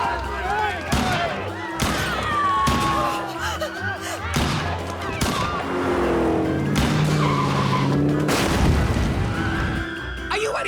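Gunfire in an animated cartoon: sharp shots burst among screeching tire skids and engine roar, loud and busy, with voices shouting over the chaos.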